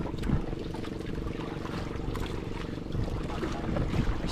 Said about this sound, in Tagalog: alalayan na ng paandar ng makina